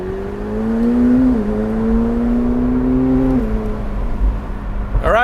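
Steady engine drone of a McLaren 750S Spider supercar on the move with the top down, a sustained close hum that rises slightly in pitch and then settles, ending with a brief rattle.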